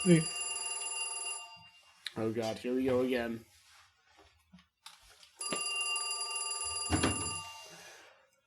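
A telephone bell rings in two long electronic bursts, loud and close, with people talking in the gap between the rings.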